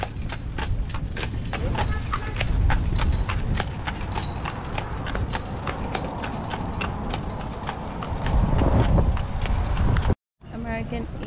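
Horse hooves clip-clop in a steady, close rhythm on a road at Lake George, New York, with wind noise and people talking over it before a brief cutout near the end.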